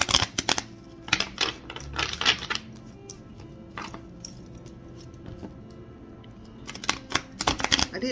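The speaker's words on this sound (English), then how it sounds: "I did shuffle before, so I don't know why I'm doing it again." Tarot cards are shuffled at close range in clusters of quick riffling clicks and flutters, with quieter gaps between the bursts.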